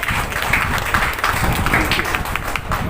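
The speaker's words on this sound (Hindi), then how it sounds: "सब बजा सकते हैं ताली।" An audience at a cancer awareness event claps loudly and continuously for a few seconds, a dense, steady burst of applause that fills the room.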